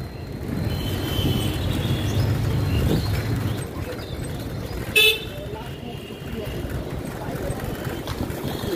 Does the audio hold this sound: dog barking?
no